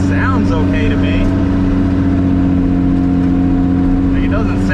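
A car engine runs steadily at raised revs rather than idling, a loud close drone with strong even harmonics, while a voice talks briefly over it near the start.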